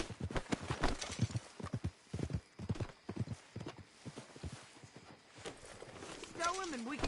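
Horse hooves clip-clopping at a walking pace in the Red Dead Redemption 2 video game, a steady rhythmic clatter with a brief whinny near the end, while characters talk over it.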